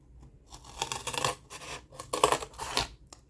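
Scissors cutting paper for a handmade journal, a series of crisp snipping and rasping strokes in irregular bursts separated by short pauses, close and clear, with no voices.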